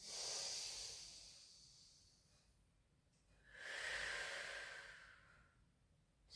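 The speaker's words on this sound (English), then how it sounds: "Inhale, let the belly rise. Out, breath release." During a gentle rehab pilates exercise, two slow, audible breaths sound close to the mic, each a long airy exhale or inhale rising and fading, with near-silence between them.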